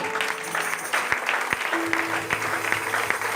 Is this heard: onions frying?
no